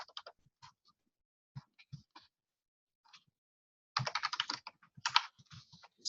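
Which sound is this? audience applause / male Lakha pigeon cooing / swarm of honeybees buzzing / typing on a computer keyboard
typing on a computer keyboard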